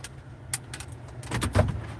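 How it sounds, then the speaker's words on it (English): A driver climbs out of a truck on rural property, with keys jangling, a door opening and shutting with a solid thunk, and rustling movement, all close by and without talk over an idling background. "I'm gonna get out of the car here and we'll talk for a minute."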